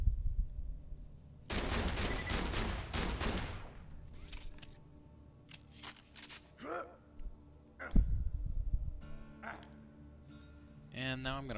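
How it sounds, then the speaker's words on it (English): A grenade goes off in the shooter game Borderlands 2 during out-of-bounds platforming in Sanctuary, a loud burst of sharp crackling blasts that fades over a couple of seconds, followed by scattered impacts and game noises. "I'm going to use a grenade here"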